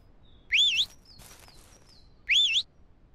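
Two short rising-and-falling whistles used to call a dachshund in the farming game Ranch Simulator, each bright and clear, about two seconds apart, with faint chirpy tones and quiet background between them.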